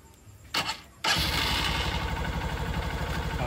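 A Honda TMX Supremo motorcycle engine cranking briefly with a short whir, then catching and settling into a steady, loud idle close by, alone without talk.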